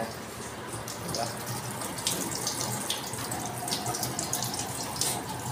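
Warm water from a heater-fed tap runs steadily in a pet grooming shop, a continuous hissing splash that holds at an even level throughout with no talk over it.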